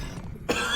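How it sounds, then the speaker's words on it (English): A single cough bursts out sharply at close range after a brief muffled lull, short and abrupt. "It's just a cough."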